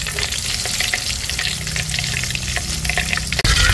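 Food fries in a pan with a loud, continuous crackling sizzle close by, broken by a brief clatter near the end.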